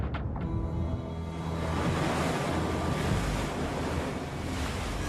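Ocean waves on the Great Barrier Reef coast of Australia, a loud, continuous roar of surf with steady wind buffeting, no voices.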